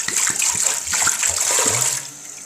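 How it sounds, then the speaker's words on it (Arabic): A litre of water poured from a container into a large cooking pot for a homemade cough syrup, making a steady splashing gush that runs for about two seconds and then tapers off. "نزيدو فوقها ريتله تاع الماء، نضربو فوقها ريتله تاع الماء."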